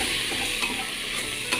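Ground fennel and garam masala being stirred in a hot frying pan for beef roast, a steady close sizzle with scraping spoon strokes, no voices.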